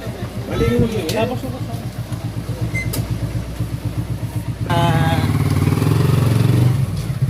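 A motorcycle engine running close by with a steady pulsing throb that grows louder and fuller partway through, under people talking.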